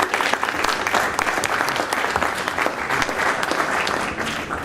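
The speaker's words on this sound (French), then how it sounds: "Alors, s'il vous plaît, on l'applaudit" A room full of people at a book launch applauds a speaker as he is introduced, with sustained, even clapping close by and nothing else over it.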